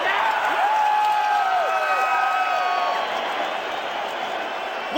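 Fifty-five thousand stadium fans roar and cheer on their feet at a fight night, a loud, sustained crowd swell with whistles and shouts sliding above it, easing slightly toward the end.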